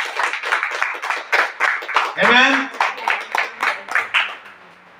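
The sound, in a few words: congregation clapping hands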